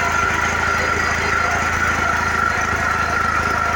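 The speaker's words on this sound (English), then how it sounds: "He's running. That's our ariens tractor." An Ariens lawn tractor engine runs at a steady idle nearby, a constant low rumbling drone with a faint whine on top.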